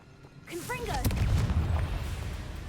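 A Confringo blast spell explodes in the Hogwarts Legacy video game, a sudden booming burst that rolls into a sustained rumbling roar amid combat, with a character's voice shouting just before it.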